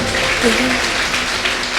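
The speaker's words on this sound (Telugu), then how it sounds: "గట్టిగా చప్పట్లు కొట్టాలి" A congregation at a healing service in Bellampalli claps loudly together, a dense, steady wash of applause lasting throughout, with voices faintly mixed in beneath.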